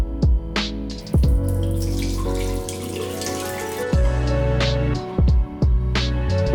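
A tap runs steadily into a sink while washable parts of an Aqua Pro vacuum cleaner are rinsed, with a continuous loud water rush broken by several sharp splashes and knocks as pieces are handled.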